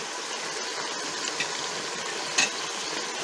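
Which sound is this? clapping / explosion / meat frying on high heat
meat frying on high heat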